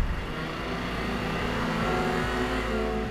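BMW M5 engine accelerating hard, a steady, loud mid-pitched roar that holds close for about three seconds, with no one talking.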